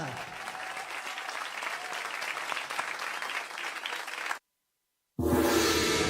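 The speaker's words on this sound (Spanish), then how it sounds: "Un aplauso para los bailarines" Dense, steady applause from a radio studio audience for dancers fills the first four seconds, then cuts to silence before another burst of loud sound.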